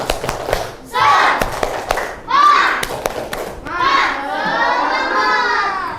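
A class of young children performs a rhythmic spirit clap in a classroom, sharp claps and thumps spaced between loud, chanted shouts from many small voices.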